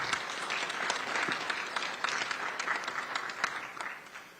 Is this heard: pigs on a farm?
no